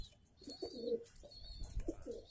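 Soft, low cooing of pigeons close by as they eat gulab jamun, repeated throaty calls over faint background chirps.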